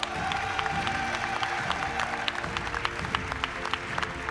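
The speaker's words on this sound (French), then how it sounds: "Nous allons applaudir Doran Yeguir" Applause at a lawyers' oath-taking ceremony as an award winner is called up, a steady patter of many hands with faint crowd murmur, continuing evenly throughout.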